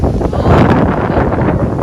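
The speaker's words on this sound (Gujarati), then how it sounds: "પવન જ બહુ છે" Loud, continuous wind buffeting the microphone with a heavy low rumble and gusty roar throughout, outdoors beside a church in Germany.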